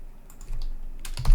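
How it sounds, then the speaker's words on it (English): Rapid keystrokes on a computer keyboard, close and fairly loud, clattering briefly with a denser burst of presses near the end and no voices. "now I'm going to type WireGuard"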